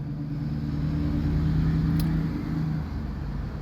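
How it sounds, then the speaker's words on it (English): A loud motor vehicle engine runs and revs close by, a steady low rumble with a sustained droning tone through the whole stretch and no talking over it. "Shout out to the loud vehicles."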